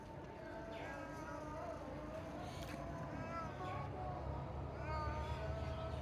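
A cat meows softly a few times amid a quiet outdoor garden background in Naikkongchori, Bandarban, the cries faint and spaced apart.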